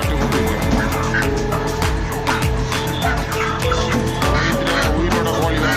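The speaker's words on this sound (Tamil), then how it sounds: "உயிரோட கோழி வாங்கலாம்." Many live chickens at a poultry shop abroad, a dense loud chorus of overlapping clucks and squawks repeating continuously and close by.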